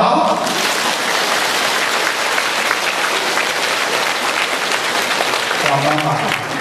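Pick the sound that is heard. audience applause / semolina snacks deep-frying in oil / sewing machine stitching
audience applause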